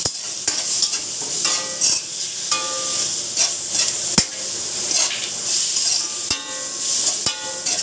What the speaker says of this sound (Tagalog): Haluin lang po hanggat sa maluto itong pork.